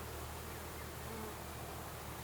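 Honey bees buzzing around a Dadant hive in spring, a faint, dense, continuous hum with no voices.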